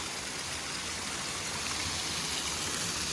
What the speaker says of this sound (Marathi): पावसामुळे पूर्ण धबधबा झालेला आहे आणि भरपूर पाऊस पडतो आहे